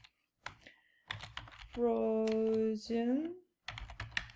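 Letters are typed on a computer keyboard in short bursts of light clicking at the start and the end. A voice speaks in between the bursts.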